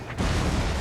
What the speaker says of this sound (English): I'm repositioning my Chaos cannon. See if I can get a good hit.